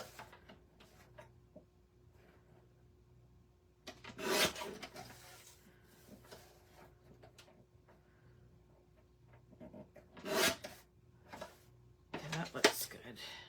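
Scissors trimming a paper craft piece for a journal, several short crisp cutting rasps in close bursts over a quiet room with a low hum.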